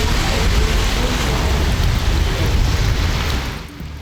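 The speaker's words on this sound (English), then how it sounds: "There is something soothing about the sound of rain" Steady rain pours down in Saskatoon, a dense, even hiss of drops hitting surfaces that holds at constant loudness with no voices, then eases slightly at the very end.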